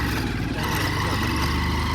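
A motorcycle engine runs steadily as the bike rides an off-road track toward a waterfall, a close, continuous low throb with a rough vibrating rumble and no pauses.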